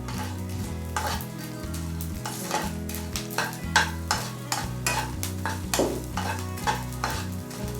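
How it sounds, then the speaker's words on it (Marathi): Edible gum (dink) frying in oil over a low flame for dink ladoos, a continuous soft sizzle broken by regular spatula stirs and scrapes against the pan, no one speaking. "छान असा फुलोस तोपर्यंत डिंक फ्राय करायचा आहे"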